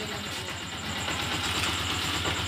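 A motorcycle engine idles in a steady, even putter with a regular low pulsing rhythm, heard fairly close at moderate level, with no speech over it.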